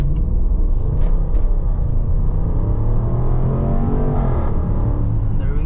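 A 2021 Range Rover Sport with a supercharged V8 pulls away from a standstill, its engine a deep, close rumble that swells as it accelerates, heard from inside the cabin with steady road and engine noise throughout.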